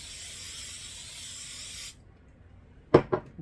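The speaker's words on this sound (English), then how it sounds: "We'll spray it." Cooking spray hisses onto a pan in a steady aerosol burst lasting about two seconds, followed by silence and then a couple of brief clunks as the can or pan is handled, while meatloaf is being prepared.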